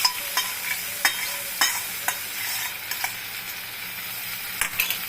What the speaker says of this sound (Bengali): টক দই দিয়ে খুব নাড়তে হবে,